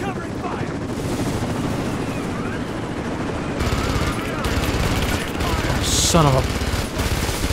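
Sustained automatic gunfire in the video game Rise of the Tomb Raider, loud dense bursts rolling on continuously with heavier volleys near the end, while someone speaks briefly over the shooting.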